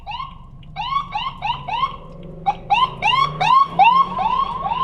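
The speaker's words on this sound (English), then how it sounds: "see, we got ambulances and shit" Ambulance siren passing on a city street, loud and close, with repeated rising whoops and warbling tones over a faint background rumble.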